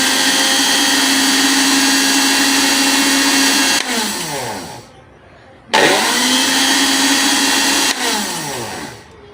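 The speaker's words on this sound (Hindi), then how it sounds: "अब हम जूसर ब्लेंडर की मशीन को चलाते हैं और सब पीस लेते हैं।" A juicer blender grinds watermelon for juice, a loud steady motor whine that cuts off, spins down, then restarts for a second equally loud run and winds down again.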